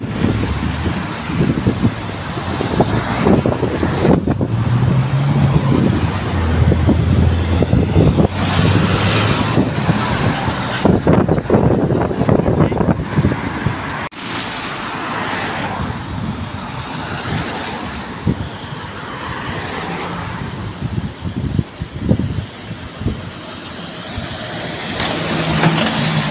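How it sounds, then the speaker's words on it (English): A fire engine drives past with a loud, steady rumble of heavy engine and road noise that fills the whole stretch. No siren is heard. "Fire engine."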